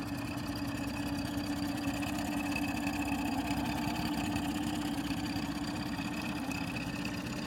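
A 2018 Mercury Fourstroke 20HP outboard motor idles in a test tank, a low, steady, quiet drone with a faint even rumble and no variation.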